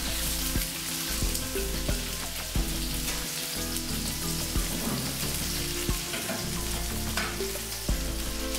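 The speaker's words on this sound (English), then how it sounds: "And let them fry for as long as possible on the same side." Potatoes frying in a layer of oil in a pan for home fries: a loud, dense, continuous crackling sizzle, close up, with occasional sharper pops and clatters throughout.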